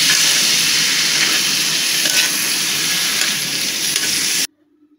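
Potatoes sautéing in a pan for a fish roe bhuna give a loud, continuous close sizzle with stirring, which cuts off abruptly near the end.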